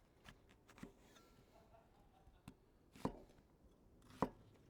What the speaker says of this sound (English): Onions, we're just going to cut into some chunks.